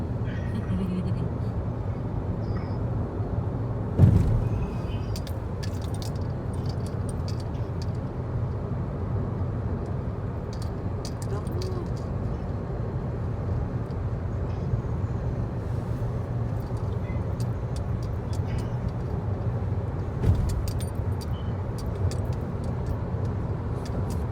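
Steady, dense road traffic on Sheikh Zayed Road in Dubai rolls past as a continuous low roar, with two louder passing swells, while people talk over it.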